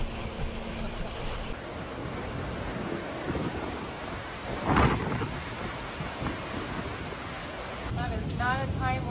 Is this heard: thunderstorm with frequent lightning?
yes